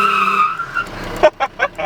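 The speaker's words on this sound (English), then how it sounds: "Did a fucking burnout." A Ram truck peels out in a brief burnout, its tires squealing in a rising whine before several short bursts of screech, with voices of onlookers overlapping the start.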